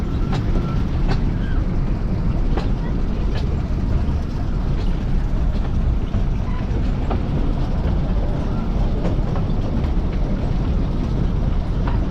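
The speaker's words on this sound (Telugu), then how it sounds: "టాయ్ ట్రైన్, చిన్న ట్రైన్ వెళ్తున్నాం" The small Ooty toy train runs toward the forest, a steady near rumble with regular clicking wheel-on-rail beats, and voices talk faintly over it.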